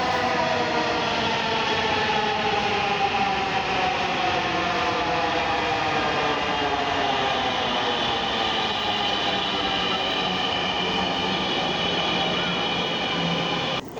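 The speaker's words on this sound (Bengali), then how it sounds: "এই তো মেট্রো চলে এসেছে, এখন আমি উঠে পড়ব।" A metro train pulls into Mirpur 11 station, its motor whine sliding steadily in pitch over a loud, continuous rumble that fills the platform for the whole stretch.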